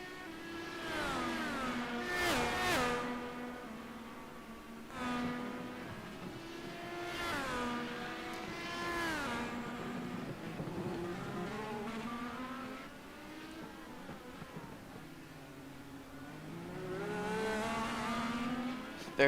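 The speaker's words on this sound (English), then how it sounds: "They're just kind of racing here, as the 48 of Cam and 29" IndyCar race cars at speed during a practice session, engines rising and falling in pitch as several cars pass, loud and continuous with overlapping engine notes and no talk.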